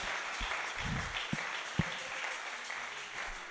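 A church congregation applauding, a steady hiss of many hands clapping at moderate distance with a few isolated thumps and a voice rising at the end.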